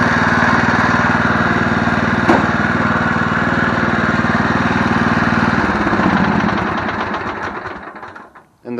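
Murray 17.5hp riding lawn mower with a 42-inch deck, its engine running steadily and loud up close, then the rhythm changes and the engine winds down toward the end.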